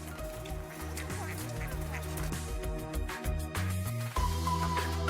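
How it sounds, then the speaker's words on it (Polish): Eurasian coots call on the open water of Gdańsk Bay in winter. Honking, quacking calls overlap from several birds, some near and some farther off, over a steady background. "Łyska to ptak wodny z rodziny chruścieli."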